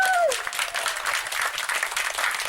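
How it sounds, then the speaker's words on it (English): A crowd applauds with steady, dense clapping throughout, fairly close, after a brief tonal sweep at the start. "Let's give them all a big round of applause."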